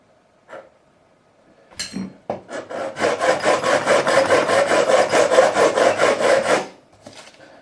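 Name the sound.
diamond-coated fret file leveling guitar frets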